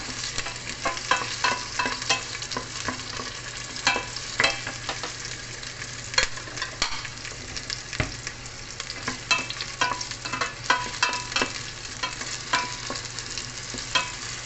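Onion and ginger sauté in a pan for tinola, a steady sizzle with repeated stirring clatter of a utensil against the pan, close and continuous with no talking.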